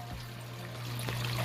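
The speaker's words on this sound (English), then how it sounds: "But the dripping action really good." Water drips and trickles through a cheap homemade fountain tower, a continuous close splashing wash with a faint low hum beneath it.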